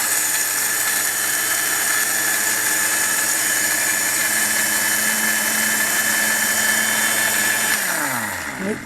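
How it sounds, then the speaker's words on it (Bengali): A Panasonic 2000 W blender motor runs at a steady, loud whine with a constant drone, alone with no talk, then winds down near the end as it is switched off. "এখন মোটর চলবে"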